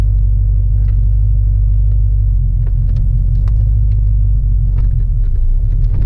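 A lowered Corvette rolls slowly out of a parking lot, its engine a steady, loud low rumble from inside the cabin with faint clicks and bumps over it and no talk.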